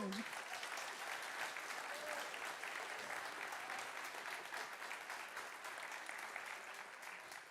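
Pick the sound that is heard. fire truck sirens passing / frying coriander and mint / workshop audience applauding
workshop audience applauding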